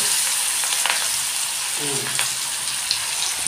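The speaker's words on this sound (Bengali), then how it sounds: "অলরেডি আমার তেল গরম হয়ে গেছে। আমি এবার ধীরে ধীরে একটি করে মাছলি ডালতে শুরু করলাম।" Fish pieces are added one at a time to hot oil, frying with a loud, dense, continuous sizzle and crackle throughout, with a few faint clinks.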